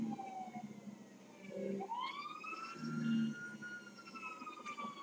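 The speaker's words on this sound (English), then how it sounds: "can't cops get in trouble for fake sirens?" A police car siren in the GTA 5 video game wails with rising and falling tones over low traffic rumble, moderately loud and steady throughout.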